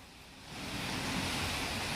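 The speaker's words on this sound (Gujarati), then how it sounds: "અત્યારે ધોધમાર વરસાદ નથી, ઝરમર વરસાદ છે" Light drizzle falls in Ahmedabad as a steady, broad hiss that swells after a moment and holds evenly, with no voices.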